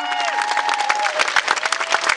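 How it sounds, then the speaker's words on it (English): A Liverpool Comic Con crowd claps and cheers loudly and steadily, dense applause with a few whoops and voices mixed in throughout. "can we just give a massive Liverpool cheer for Carl, who actually built that Viper over there?"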